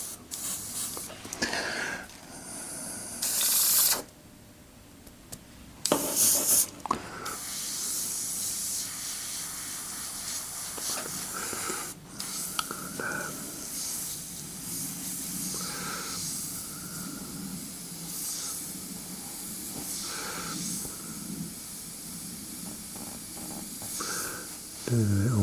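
An airbrush sprays paint onto a small baby Michael Myers Halloween figure, bursts of airy hiss starting and stopping, with brief loud blasts early on and quieter intermittent spraying afterward.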